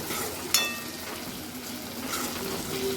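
Vegetables sautéing in a pan for a dry Maharashtrian pavta (lima bean) curry, a steady close sizzle and frying hiss with a brief clink of a spoon or utensil near the start, no talk.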